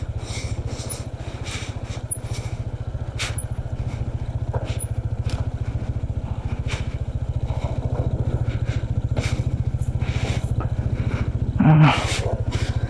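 A motor scooter's engine labours steadily while climbing a steep mountain road near Sagada, a continuous low droning hum that stays close and loud throughout, with a brief louder burst near the end.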